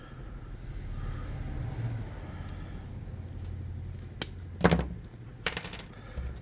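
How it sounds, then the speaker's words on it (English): Snippers clip a plastic miniature off its base in a few sharp snaps near the end, over a low steady background hum. "So I'm going to start snipping him off this base."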